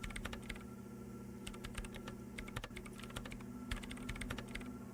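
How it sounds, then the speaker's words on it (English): Rapid keyboard typing of commands into a machine in the video game Disco Elysium, a steady clatter of keystrokes in bursts over a low ambient hum, fairly close and continuous. "her hands typing hundreds of commands into the machine"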